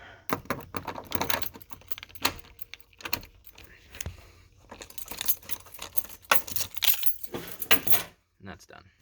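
A bunch of keys jangles and clinks in quick, irregular bursts close by during work on a car's automatic-to-ZF6 manual transmission conversion, with short pauses between the shakes.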